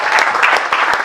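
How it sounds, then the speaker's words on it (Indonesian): Brief burst of audience applause at an indoor youth gathering, dense overlapping claps filling a short moment, fairly loud and close. "Tepuk tangan buat saya."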